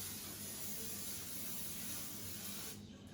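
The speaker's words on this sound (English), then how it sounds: "I'm going to go ahead and spray it well." A steady, continuous hiss of aerosol cooking spray held close by for about three seconds, cutting off abruptly near the end.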